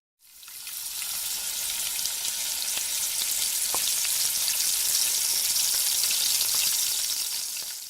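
Chopped onion and finely diced small tomato sizzle steadily in a hot pan, a dense, continuous crackling hiss that holds at an even loudness throughout, with no voices over it.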